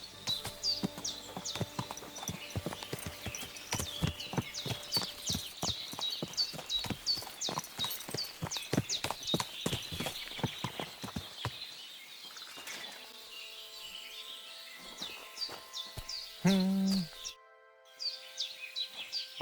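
Horse hooves clip-clop steadily and close in a medieval Bohemian role-playing game, rapid rhythmic strikes for about twelve seconds over birdsong, then the hoofbeats stop and quieter ambience with birds remains.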